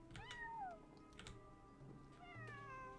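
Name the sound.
cat meowing in Genshin Impact video game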